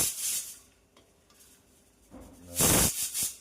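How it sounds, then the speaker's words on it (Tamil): Pressure cooker with meat inside vents nearby with a strong hissing burst toward the end, after quieter kitchen sounds and a faint earlier hiss. "பக்கத்துலேயே குக்கர் சத்தம், குக்கரில் கறி வேக விட்டுருக்காங்கன்னு நினைக்கிறேன்"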